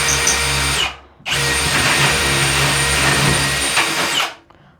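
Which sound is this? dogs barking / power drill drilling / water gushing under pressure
power drill drilling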